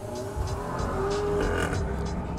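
A BMW 520 pulls away from a standstill at full throttle, its engine note rising steadily as it accelerates, heard up close and fairly loud with no talking.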